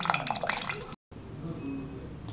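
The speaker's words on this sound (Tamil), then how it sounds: "இதையும் ஒரு பால் மாதிரி செஞ்சு அதில் இருக்க தண்ணி எல்லாத்தையும் நல்லா நம்ம வடித்து எடுத்துடலாம்." Water from homemade paneer drains and drips through a cloth, a close wet trickle that cuts out briefly and then resumes as a softer flow.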